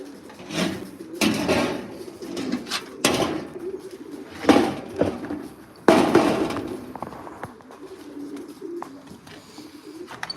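Racing pigeons coo softly at close range amid thumps and rustling of handling, with a few louder knocks and bursts scattered through the stretch.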